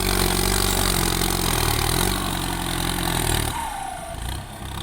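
A Kubota M8540 air-conditioned-cab farm tractor pulling tree stumps runs loud and steady, its diesel engine droning close by before the note drops and fades toward idle near the end.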